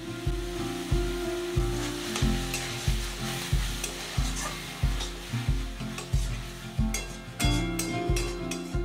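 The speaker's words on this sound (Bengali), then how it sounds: "রসুন বাটার কাঁচা গন্ধটা যাতে চলে যায় সেই জন্য একটু কষিয়ে তারপরে দিচ্ছি আদা বাটা।" Garlic and ginger paste frying with tomato for chicken bhorta, a loud close sizzle under steady repeated scraping strokes of stirring, evenly paced, with no voices.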